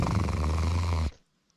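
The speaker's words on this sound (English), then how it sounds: "Way to snore." A loud, close snore from a person, one long rough rattling breath with a deep low drone that cuts off abruptly into silence.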